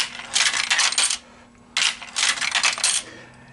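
Dollar coins dropping through a Conlux CCM-5 tube vending machine coin mech, two bursts of rapid metallic clinking and rattling separated by a brief quiet gap, close and clear.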